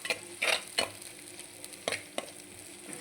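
Onions frying in a pan, a soft steady sizzle broken by a few sharp scraping stirs of a spoon against the pan, close and fairly quiet, with no talk.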